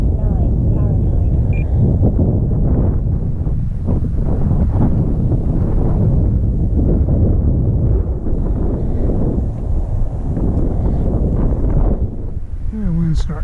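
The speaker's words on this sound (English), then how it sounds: "Yeah, wind's starting to pick up a little bit." Wind buffets a microphone outdoors while small RC planes fly on a December afternoon, a loud, continuous low rumble that fills the whole stretch and masks most other sound.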